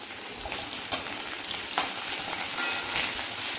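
Okra and onions frying in oil for bhindi masala, a steady close sizzle with a few sharp spatter pops and scraping stirs breaking through, no voices.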